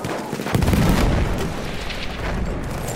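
A grenade explodes in Battlefield 1, one loud, close boom with a rolling low rumble that fades over a couple of seconds amid battle noise.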